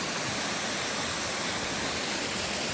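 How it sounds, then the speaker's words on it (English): Waterfall on a North Devon coastal hiking route, draining into the Atlantic: a steady, dense broadband roar of falling water, close and unbroken, with no voices. "You see how the waterfall drains out into the Atlantic."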